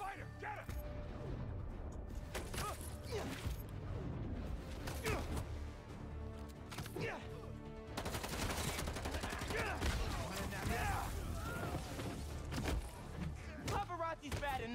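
Assault rifle gunfire in the Spider-Man 2 video game on PS5, repeated bursts and volleys of shots mixed with game effects, running beneath someone talking throughout.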